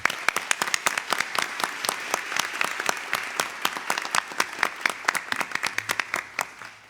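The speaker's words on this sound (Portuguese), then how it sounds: "solicitamos à banda uma salva de palmas" Applause for a military police band at a formal ceremony for a law faculty's 70th anniversary: a sparse, fairly quiet crowd with distinct individual claps in an irregular patter that thins out toward the end.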